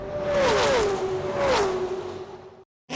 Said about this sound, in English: we think the best part about racing is the noise, the engine, the pits, and a Kevin Harvick top 10 finish